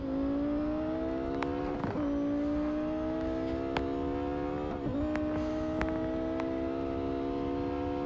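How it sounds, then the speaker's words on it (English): A Porsche Carrera GT racing engine in Real Racing 3 at Hockenheimring wails at high pitch, climbing steadily with two sharp gear-shift breaks, loud and close with no talking. "We're on the Porsche Carrera GT."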